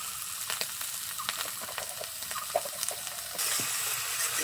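Cumin, coriander and turmeric powder sautéing with a little water in a pan for a snail and pumpkin curry, giving a continuous loud sizzle with stirring scrapes that swells louder near the end.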